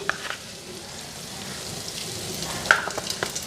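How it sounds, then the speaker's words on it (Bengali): Cumin seeds dropped into hot oil for tempering lentils give a soft, steady sizzle and light crackle, fairly quiet and close, with a couple of small pops near the end. "এদিকে তেল দিয়ে দিলাম ডালটা সম্বার দিয়ে একবারে বসানো জিরা ফোড়ন দিই"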